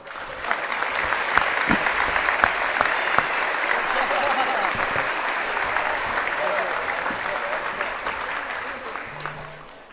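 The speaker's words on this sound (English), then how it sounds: "We'll give him another round of applause." At a high school basketball tournament championship, a gym crowd applauds in a long sustained round, dense clapping from many hands holding at an even level for about ten seconds before easing off at the end.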